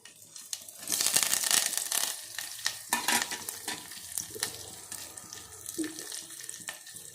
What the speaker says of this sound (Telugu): నేను పెసర పునుగులు వేసాను, డీప్ ఫ్రై అవుతున్నాయి